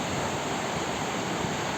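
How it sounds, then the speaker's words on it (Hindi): The Alaknanda river flowing at the Karnaprayag confluence with the Pindar, a dense continuous rushing roar of fast water, loud and even throughout, with no speech. "ये अलकनंदा नदी इस ओर से बहती हुई आ रही है"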